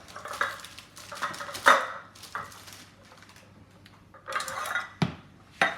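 A metal friand baking pan is pulled out and handled in a kitchen, giving a series of close clattering metallic knocks and rattles, with several sharp clangs toward the end.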